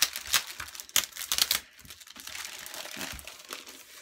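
Packaging crinkles and crunches loudly in a burst of sharp, irregular rustles as a monthly travel-themed craft kit box is unwrapped, easing into softer continuous rustling near the end, with no voices.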